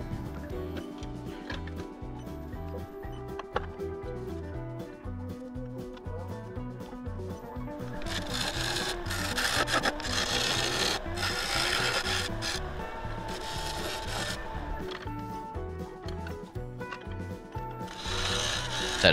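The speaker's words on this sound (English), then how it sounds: "I push the tool in to mark the tenon" A lathe tool scrapes into a spinning river sheoak bowl while cutting a tenon, a steady rumbling hum beneath that swells into louder, hissing cutting bursts midway and continues close and unbroken.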